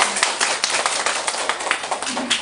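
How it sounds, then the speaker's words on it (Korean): Audience applause at a seminar, a short burst of scattered, fairly sparse clapping from a small group, moderately close, fading slightly toward the end. "박수 주세요."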